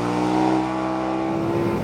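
KTM 1290 Superduke R roadster engine revving, a loud, close, sustained throaty drone held steady for about two seconds with no voices.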